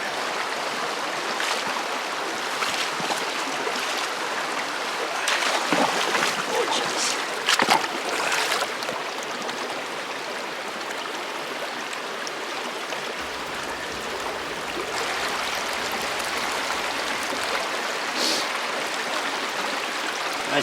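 Fast-moving glacial stream water rushes and burbles steadily through a gold-mining sluice, a constant close wash with occasional splashes and gurgles rising above it.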